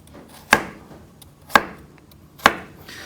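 A knife slicing carrots on the bias makes three sharp, evenly spaced chops against a cutting board, each crisp and close with quiet pauses between.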